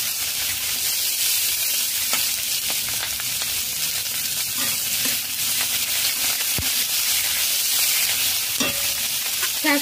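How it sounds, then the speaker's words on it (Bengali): Chopped capsicum and onion sizzle steadily in a pan over a medium flame, with a broad continuous frying hiss and occasional soft scrapes and clicks from stirring, close by and with no talk. "ক্যাপসিকাম দিয়ে একসঙ্গে নাড়াচাড়া করে নিয়েছি।"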